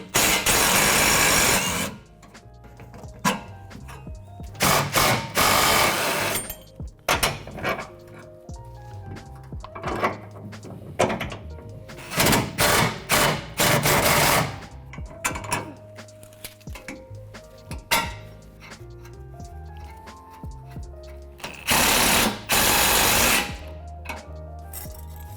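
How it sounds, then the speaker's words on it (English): Wrenches work on the factory suspension of a 2020 Ford F-150 Lariat: loud close bursts of ratcheting and impact-tool buzzing broken by pauses and clanks of metal. "let's start turning some wrenches and we'll get the factory equipment out of here"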